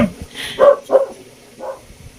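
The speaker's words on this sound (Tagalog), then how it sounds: "nag-ingay pa yung isang aso" A dog barks at night during a quiet indoor card reading: three or four short, fairly distant barks in a loose series, with a faint low murmur behind them.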